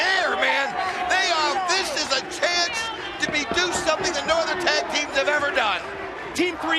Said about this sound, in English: This crowd just came alive when they came out here, and you can feel it in the air, man.